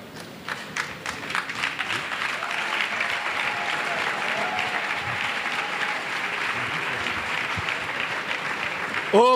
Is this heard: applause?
yes